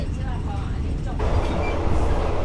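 A vintage Thai overnight sleeper train between Chiang Mai and Bangkok rumbles along with a steady low roar and rattling from inside the carriage, growing slightly louder partway through.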